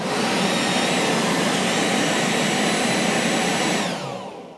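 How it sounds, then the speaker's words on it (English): A Ryobi 40-volt leaf blower runs at full speed, a loud, steady close-range roar with a motor whine that holds evenly, then begins spinning down at the end. "First test, Ryobi, 40 volts."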